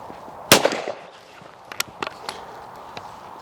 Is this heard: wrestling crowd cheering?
no